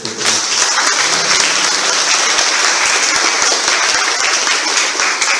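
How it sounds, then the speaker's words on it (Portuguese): A church congregation at a Catholic charismatic renewal gathering breaks into loud, sustained applause, with a thick wash of clapping from many hands in a reverberant hall and a few sharper individual claps standing out. "Aplaude o nascimento da tua igreja."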